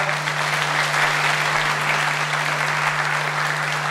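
Sustained applause from an audience at a citizens' public hearing on founding Anyang FC, a dense even clapping that fills the whole stretch without a break.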